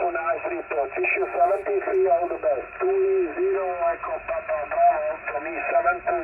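Amateur SSB radio receiving a station from Bosnia: a band-limited, slightly distorted voice comes through continuously at moderate loudness with faint background noise, typical of a shortwave transceiver's speaker.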